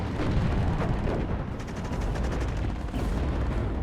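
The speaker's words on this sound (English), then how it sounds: "I thought some tanks in this location, so I was like, I'll fire some shots." Rocket artillery fires on tanks in the multiplayer war game WARNO, producing a dense, continuous roar of rumbling blasts and crackling impacts that stays loud and unbroken throughout.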